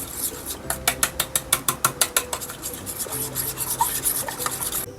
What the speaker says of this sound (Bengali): এবার স্বাদ মতো নুন, হলুদ গুঁড়ো আর লঙ্কা গুঁড়ো দিয়ে ভালো করে মিশিয়ে নিতে হবে।